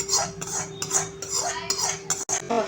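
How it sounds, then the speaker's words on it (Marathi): A utensil scrapes and clinks rhythmically against a container while cooled oil is mixed into amla pickle, repeated close strokes roughly every half second with no talking. "छान असं आता हे तेल मिक्स करून घ्यायचं आहे लोणच्यामध्ये."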